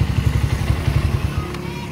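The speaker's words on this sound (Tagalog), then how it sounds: "maandar yung ating motor" A small motorcycle engine runs steadily with a rapid, rough low putter, close by and fairly loud, until it dies from running out of fuel.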